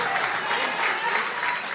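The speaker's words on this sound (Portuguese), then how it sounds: "Dá uma salva de palmas para Jesus" A church congregation claps in a dense, steady burst of applause, fairly close and sustained for a couple of seconds with faint voices mixed in.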